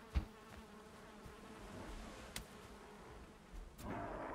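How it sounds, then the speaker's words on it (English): Bees buzzing in Valheim, a faint, steady insect hum with a few brief clicks and thumps, no voices. "Stop fucking with my bees, you bastards."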